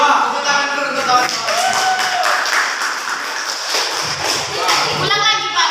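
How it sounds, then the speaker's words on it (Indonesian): A secondary-school class claps for a classmate during a quiz in a lesson at a Pekanbaru madrasah: a loud burst of hand clapping from many pupils, with chatter and a voice speaking over it. "Coba, tepuk tangan dulu untuk kawan."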